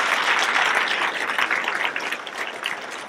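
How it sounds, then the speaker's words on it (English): A hall audience at an awards event gives a round of applause for hotel staff, dense steady clapping that thins gradually over three seconds. "let's give them a really loud applause there"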